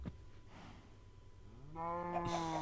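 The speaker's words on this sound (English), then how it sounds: "Get away, cow!" A cow in the Minecraft video game gives a single low, drawn-out moo after a quiet stretch with faint knocks, and the moo ends the clip loud and close.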